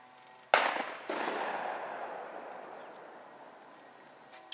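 Gunshots ring out across a rural hollow, two sharp reports a moment apart, each followed by a long rolling echo that fades slowly, heard outdoors at a distance with no talk.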